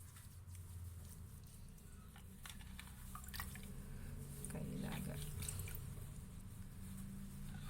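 Water is splashed on the face to rinse off a tan removal face pack, a run of faint drips and wet patters with soft squishy splashes, quiet and close, without talk.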